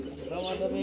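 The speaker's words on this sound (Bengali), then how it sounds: "দেখতে পাচ্ছেন ব্লু বার কালারের মধ্যে কিং কবুতর।" Blue bar king pigeons cooing close by, a soft, throaty, rolling coo that carries on without a break for under a second.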